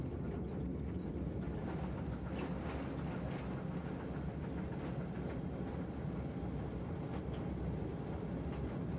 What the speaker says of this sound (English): We are now on the approach to Dainton Bank, with the locomotive working at maximum power.